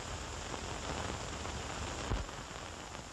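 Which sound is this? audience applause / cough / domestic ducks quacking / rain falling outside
rain falling outside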